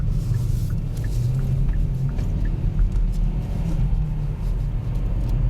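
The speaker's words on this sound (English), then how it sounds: "I'm going to drop down into seconds. I've come out onto the roundabout and I'm going all the way around" A 2022 Kia Proceed shooting brake circles a roundabout in second gear, its engine giving a steady low droning rumble with road noise, heard from inside the cabin with no talking.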